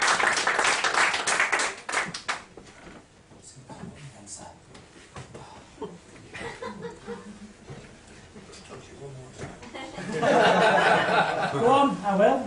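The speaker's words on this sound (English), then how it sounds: "Give them a round of applause." Live comedy show audience bursts into applause near the end after a stretch of quieter murmuring and scattered sounds, the clapping dense and fairly close, with some talk and chuckling earlier.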